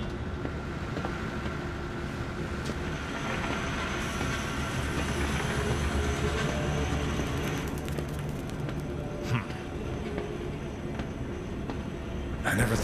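Trolley train moving through a zoo in the video game Zoochosis, a steady, low rolling rumble with faint rattling and a few clanks, continuous and moderately loud throughout.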